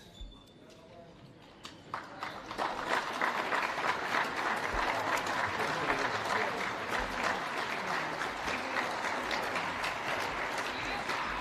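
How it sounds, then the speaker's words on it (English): Spectators and both netball teams at a New Zealand v Australia under-20 test clap as an injured player leaves the court. The applause swells after a quiet start into a steady, dense patter that continues under commentary. "both teams were clapping them off as they come off"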